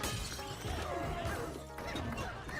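Clay objects smash and shatter in the multiplayer video game Kiln, with a busy run of cracking, crumbling impacts and game effects lasting a few seconds.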